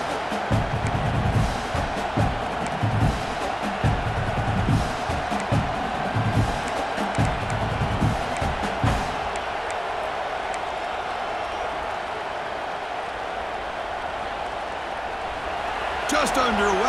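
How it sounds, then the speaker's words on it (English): Home stadium crowd in the EA Sports College Football 26 video game roaring and cheering in pulsing swells, then settling into a steadier broad crowd hum, with a fresh burst of cheering at the very end. "this home crowd is fired up and ready to make a difference today"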